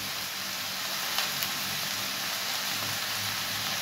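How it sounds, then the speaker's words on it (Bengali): Onions frying in oil in a wok (kadai) for a tomato, potato and onion curry, giving a steady, soft sizzle that holds evenly throughout without talk. "তরকারিটা এখন বসাচ্ছে, কড়ায় তেল দিয়েছে, পেঁয়াজ দিয়ে দিয়েছে"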